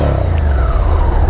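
Suzuki SV650 V-twin motorcycle engine on its stock exhaust, a loud, close, steady throbbing rumble held throughout with no voices.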